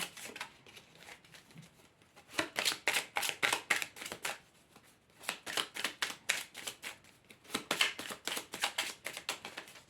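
A deck of cards riffled and cut by hand in several quick bursts of rapid fluttering clicks, separated by brief pauses, close and crisp with no talking.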